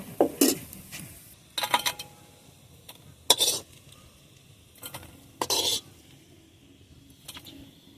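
Fried dried red chillies, onion and garlic are lifted out of an oily pan with a metal spatula. Sharp clinks and scrapes come in short irregular bursts over a faint sizzle, close by, with no talking.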